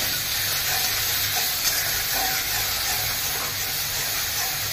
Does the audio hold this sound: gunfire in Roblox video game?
no